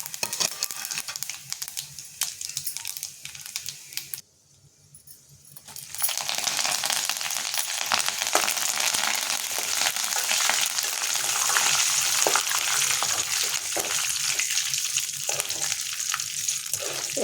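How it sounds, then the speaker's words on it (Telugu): Half a spoon each of cumin and mustard seeds frying in hot ghee for tempering: a sudden loud hiss of sizzling that bursts in after a brief quiet gap and crackles steadily, close and continuous. "నెయ్యి కాగింది, తాలింపు చేసుకుందాం."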